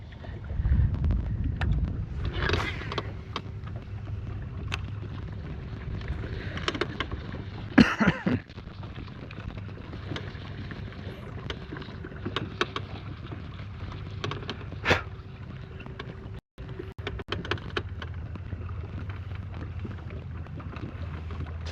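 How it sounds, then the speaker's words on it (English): Steady wind buffets the microphone on a bass fishing boat out on Lake Guntersville, a constant low rumble with a few sharper gusts and knocks, no voices. "It's a little breezy out here."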